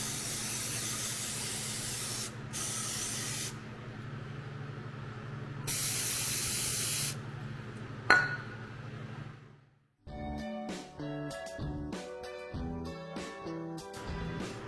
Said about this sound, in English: Muck Off's already going to work. Definitely see all this gunk from the chain.